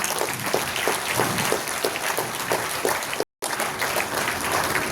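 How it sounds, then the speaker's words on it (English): A seminar audience gives thunderous applause, a loud, dense roar of many hands clapping close by, sustained throughout with a brief dropout midway. "this whole house will give a thunderous applause from our side"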